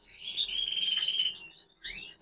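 Small birds in an aviary chirp and trill close by, a long high warbling phrase followed by a short bright burst after a brief pause.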